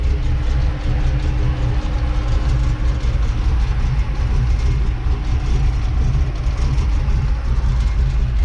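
An old Chevrolet C10 pickup truck engine idles low and rough while cold, a steady close rumble with a slight uneven throb and no pauses.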